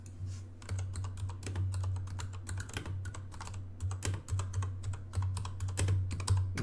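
Rapid clicking keystrokes on a computer keyboard, close and continuous in quick bursts, over a constant low electrical hum.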